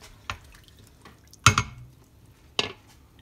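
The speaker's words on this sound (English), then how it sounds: "I'm gonna scrape up anything off the bottom that's stuck." A utensil scrapes and taps against the bottom of an Instant Pot inner pot with chicken stock in it, giving a few short, close metallic scrapes with brief pauses between them.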